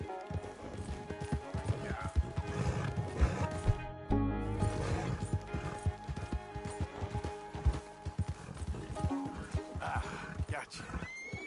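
A horse in Red Dead Redemption 2 clip-clops and neighs during a chase to recover a bolted mount, with hoofbeats rolling throughout, a whinny or two, and someone talking over the game sounds.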